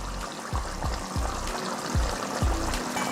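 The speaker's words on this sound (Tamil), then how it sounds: "ஒரு முட்டையை உடச்சி எடுத்து வச்சுருக்கேன் அதே இதில் ஊற்றிக்கலாம்" Beaten egg is poured into a simmering Tamil egg curry (muttai kulambu), a soft liquid pour over a bubbling simmer with a few low thuds.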